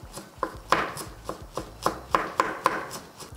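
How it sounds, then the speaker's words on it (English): Fresh ginger being minced with a knife on a board, a quick run of about a dozen sharp, close chops in an uneven rhythm, with no voices. "And so I'm just going to chop my ginger."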